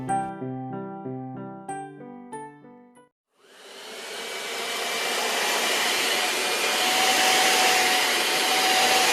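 A short plucked melody plays, then a vacuum cleaner starts up and runs with a loud, steady roaring whine that slowly builds.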